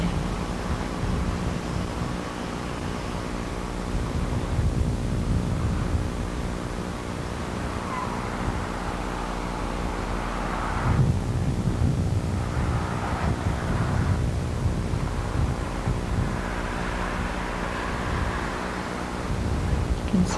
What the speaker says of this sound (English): It was quite windy that day.